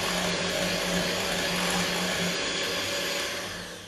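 Electric hand whisk running steadily as it mixes a cake batter in a bowl, a continuous motor whir with a low hum, close and loud throughout, easing off slightly at the end.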